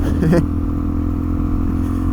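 A motorcycle engine runs steadily with a low, even drone and a brief burst of rev change near the start as the rider shifts up through the gears, without talk.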